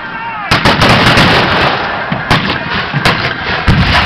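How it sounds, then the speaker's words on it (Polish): Dense, loud volleys of gunfire from Napoleonic battle reenactment troops at the 2011 Koźle fortress battle, sharp cracks and booms overlapping continuously with repeated heavier bursts throughout. "Wojska napoleońskie wciąż oddają strzały, wciąż walczą."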